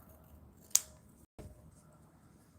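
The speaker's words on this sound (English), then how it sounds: "So I'm going to cut off this part here." Scissors snip through part of a wool dreadlock, one sharp close cut followed by a softer second snip, faint and quiet overall.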